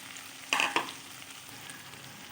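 Fried pumpkin is tipped into spiced, slow-cooked liver, giving a couple of quick clattering thuds and a burst of frying over a soft, steady sizzle.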